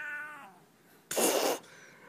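A pet cat meows, a short wavering cry first, then a louder, sharp meow after a brief pause.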